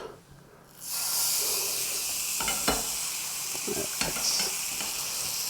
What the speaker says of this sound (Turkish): Daha önce de sizler için hazırladığım özel soslamış etimizi mühürlemek üzere kızgın yağımıza atıyoruz.